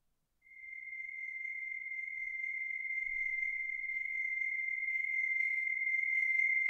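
A distorted sound effect meant to mimic the blinding-sun moment in films: a single steady high whistling tone that starts abruptly and holds for several seconds, with faint crackly grit creeping in toward the end.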